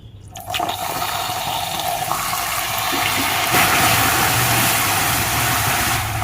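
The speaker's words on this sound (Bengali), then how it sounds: "এখন আমি এর মধ্যে দিয়ে দিচ্ছি অল্প একটু জল।" Water poured into hot caramel in a pan sets off a loud, sustained hiss and sizzle that starts abruptly and roars steadily for several seconds, close up and with no talk.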